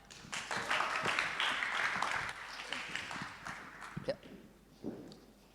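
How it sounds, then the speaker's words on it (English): Audience applause at the APAC Summit, a Plug and Play startup showcase, welcoming a presenter from Surplus; a sustained burst of clapping that gradually thins out, with a few scattered claps and murmurs near the end. "let's give a round of applause to Agung from Surplus"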